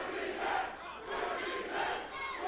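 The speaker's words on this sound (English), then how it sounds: "dueling chants." A wrestling crowd at a Rob Van Dam versus Willie Mack match chants in dueling, rhythmic swells, a dense roar of many voices rising and falling in waves.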